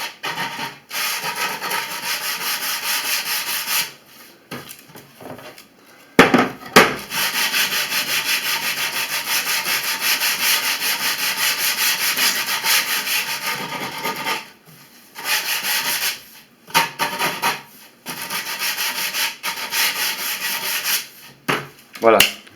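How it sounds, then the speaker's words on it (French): Abrasive cloth rubs steadily along the edge of a melamine panel to put a small chamfer on it. The sanding comes in long, loud strokes close by, with several short pauses and no voices. "vous mettez un petit coup de toile dessus pour passer un peu de chanfrein"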